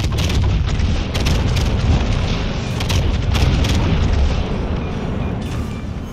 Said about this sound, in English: Yamato gun sound is fantastic